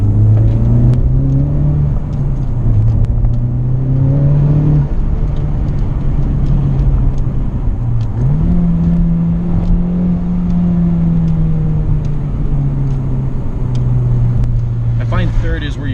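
Inside a 2019 Honda Civic Type R, the engine drones loudly and rises in pitch as it accelerates, drops on a downshift, then pulls hard again. Someone talks over it throughout.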